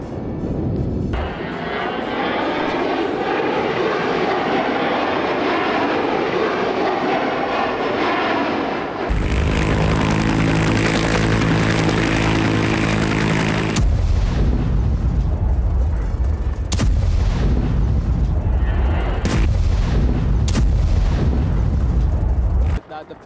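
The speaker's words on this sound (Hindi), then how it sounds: "पोखरण में एयरफोर्स का वायु शक्ति युद्धाभ्यास। तेजस समेत 121 विमानों ने अपनी ताकत" Air Force jets, Tejas among them, roar at the Vayu Shakti exercise in Pokhran, a loud continuous engine rumble broken by heavy blasts and booms, with voices speaking over parts of it.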